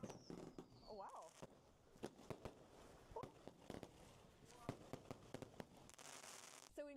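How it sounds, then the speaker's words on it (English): Fireworks burst in the night sky in China, with scattered cracks and pops at varying distances over several seconds, and people talk faintly in between. "And there's fireworks."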